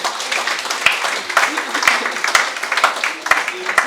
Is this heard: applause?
yes